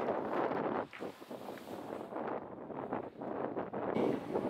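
Steady wind blows across a sailboat crossing the Atlantic on a broad reach in a constant breeze of about 20 knots. It makes a continuous, close, buffeting roar with rushing gusts and no voices.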